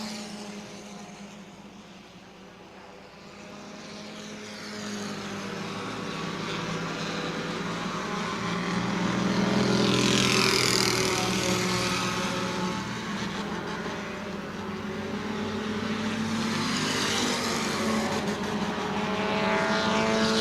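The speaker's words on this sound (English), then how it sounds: "So the 21 car is back on the track." A Bomber-class race car roars around New Smyrna Speedway, its engine note rising and falling as it passes, building to a loud pass near the middle and fading away toward the end.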